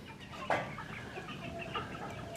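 Chickens fed on buttermilk cluck on a farm, quiet and a little distant, with one sharper squawk near the start over a soft outdoor background.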